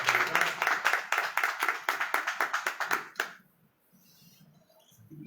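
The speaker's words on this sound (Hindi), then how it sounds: "तालियों के साथ स्वागत कीजिएगा।" An audience claps in welcome for guests at an honouring ceremony of a world peace service and honour organisation. The applause is steady and rhythmic and fairly close, then fades quickly into near silence.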